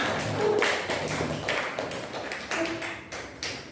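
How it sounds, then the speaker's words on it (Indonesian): Scattered clapping from a small group in a classroom, uneven and loose, with a few sharper individual claps standing out against a roomy background. "tepuk tangan kepada kelompok pertama"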